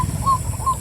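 Two short, faint bird calls, evenly spaced, sound over a low background rumble outdoors.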